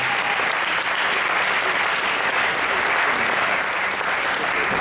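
An audience at a church ordination service applauding to acclaim the Lord: dense, steady clapping from a large crowd, sustained and loud throughout.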